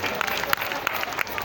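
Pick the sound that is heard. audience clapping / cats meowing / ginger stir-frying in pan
audience clapping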